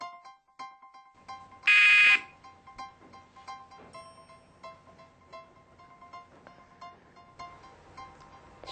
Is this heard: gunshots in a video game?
no